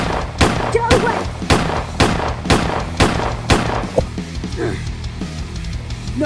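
Gunfire in a fight scene: a rapid series of loud, sharp shots cracks out at a rough, uneven rhythm, with about nine blasts before fainter knocks and thuds near the end.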